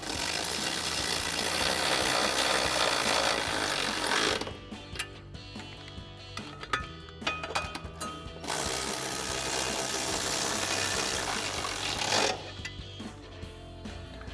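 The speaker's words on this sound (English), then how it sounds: "we can take a 13mm socket to tighten these down" A 13mm socket ratchet tightens bracket bolts while Runner RedRock 3-inch running boards are fitted. Bursts of rapid ratcheting clicks alternate with stretches of loud steady broadband noise, with no talking.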